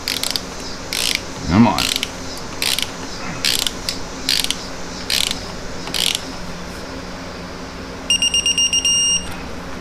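A drive belt being fitted onto the pulleys of a Kymco Like scooter, heard close as short repeated clicking, ratcheting bursts with a few clanks, and one brief spoken remark.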